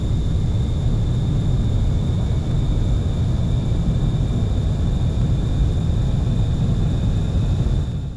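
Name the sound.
military jet taking off on runway in a video game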